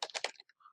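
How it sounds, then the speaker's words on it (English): Quick run of keystrokes on a computer keyboard while typing a domain name, a handful of soft close taps over under a second, quiet and without speech. "I can type that in here"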